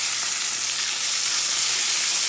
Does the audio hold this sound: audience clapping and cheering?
no